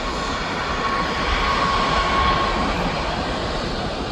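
A TUI airliner taking off at Birmingham airport produces a loud, sustained jet roar with a faint high whine, steady and close for the whole stretch with no voices.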